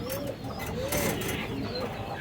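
Pigeons coo softly in short, low, rising-falling calls amid a steady noisy background, close by at moderate level.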